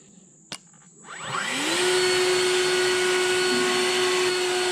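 An EGO cordless electric backpack leaf blower spins up after a click and settles into a loud, steady high-speed whine and rushing airflow, close and continuous with no talking.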